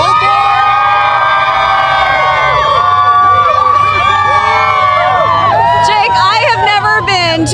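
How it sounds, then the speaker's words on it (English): Seattle Sounders fans in a dense crowd cheer, whoop and shout continuously before the MLS Cup victory parade, with children's shrieks and a babble of voices, and sharper whistles and yells rising near the end. "People are starting to cheer, getting ready for the parade to start."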